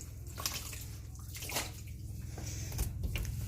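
Running water rinsing while cleaning with a multi-surface spray, a steady close splashing flow with uneven surges and gurgles, no voices.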